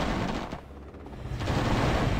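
Sustained automatic gunfire from special forces infantry in Command and Conquer Generals Zero Hour, a dense rattling burst that dips briefly mid-clip and then resumes loud and continuous.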